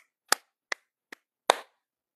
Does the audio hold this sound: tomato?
no